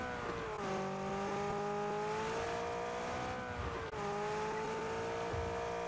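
A car engine in the battle-royale game PUBG hums and revs steadily with shifting pitch as the vehicle drives along, fairly faint and continuous, with no talk over it.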